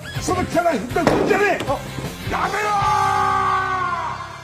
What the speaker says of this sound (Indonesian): guru kepala yang sudah geram pun berteriak sekencang-kencangnya